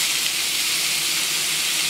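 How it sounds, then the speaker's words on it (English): Cut-up pork chop pieces sizzling in a skillet, a steady bright hiss of frying that holds at an even loudness throughout, with no talk over it. "we're going to take our pork chop that we cut up, and we're going to put that inside the skillet"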